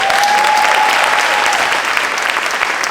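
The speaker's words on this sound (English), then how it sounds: "let's have a rousing and robust round of applause for our leader" Loud, steady applause from a crowd at a ribbon-cutting ceremony for a new Paterson school campus, filling the whole stretch with dense clapping, a brief whistle-like tone near the start.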